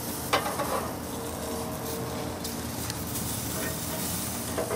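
Pork tenderloin and shrimp sizzle steadily on a hot cooking surface, a loud continuous crackle with a few sharper pops, with no voices.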